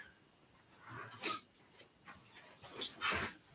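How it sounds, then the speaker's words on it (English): Pet dog Daphne whimpers and lets out a few short, soft barks and yips toward other dogs outside, in scattered bursts close by in a quiet room. "Oh, you're talking to the other dogs out there. I hear them barking."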